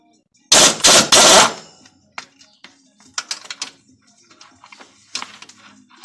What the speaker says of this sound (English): What I'll be using is my impact gun with a 15mm